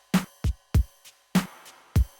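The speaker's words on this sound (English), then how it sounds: "these big reverb claps he does" A Lindrum clap drenched in big reverb, struck five times in a loose rhythm with faint echoing tails between hits, sounding alone in solo.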